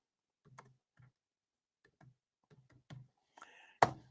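A computer keyboard tapped out in short, light clicks while a search is entered, scattered keystroke bursts spaced irregularly and ending in one sharp, louder click.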